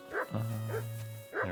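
Dog in the Kingdom Come: Deliverance 2 video game giving three quick barks in a row, close and fairly loud over a low steady hum.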